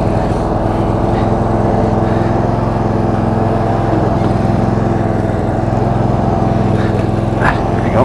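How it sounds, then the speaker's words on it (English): Lawn tractor engine running steadily while being driven, a loud, close, continuous mechanical drone with a constant hum throughout and no pause. "Is he on a lawn tractor? Yes, I am."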